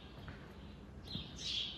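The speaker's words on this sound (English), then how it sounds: "listen to the birds chirp" Faint bird chirps heard inside a garage, with brighter high tweets toward the end over a low steady background hum.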